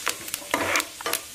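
Dried chili and roasted gram frying in a pan for a poha snack, short bursts of sizzle and scraping stirs in quick uneven spurts, close and fairly loud.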